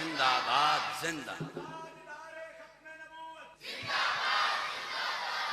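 A crowd at a village gathering in Sargodha shouts a slogan in unison, one loud collective roar, a brief pause with a single voice calling out, then a second swelling chant.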